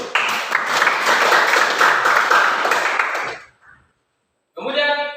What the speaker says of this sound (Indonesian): beri aplaus dulu